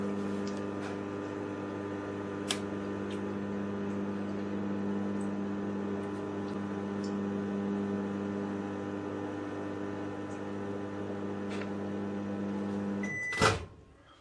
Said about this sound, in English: So chuck this one back in the microwave as well.